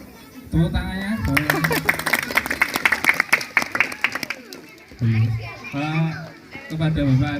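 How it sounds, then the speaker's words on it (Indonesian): Audience applause at a neighbourhood Halal Bihalal gathering in Madiun, a burst of dense clapping lasting several seconds between announcements, with a speaker's voice heard before and after over a mildly noisy crowd. "Tepuk tangannya."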